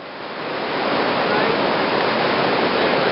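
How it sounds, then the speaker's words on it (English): Flooding Nass River water rushes loud and steady at close range, a dense continuous roar that swells in over the first half second and then holds without a break. "We're on an island in the Nass, and it's flooding."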